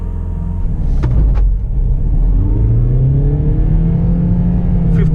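Volkswagen Vento engine revving hard in first gear, a loud steady drone whose pitch climbs smoothly as the car accelerates, with a couple of brief clicks early on.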